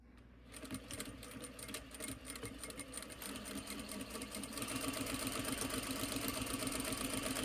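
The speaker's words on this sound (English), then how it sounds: "Back stitch beginning and end." Sewing machine back stitching a fabric seam, a continuous fast mechanical whirr and needle patter that steadily speeds up and grows slightly louder without pause.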